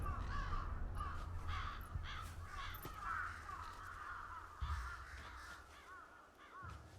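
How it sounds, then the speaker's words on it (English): Crows cawing repeatedly in Final Fantasy XVI, a chorus of harsh caws over a steady low ambient rumble, several calls overlapping near and farther off. "Or crows, whatever those are."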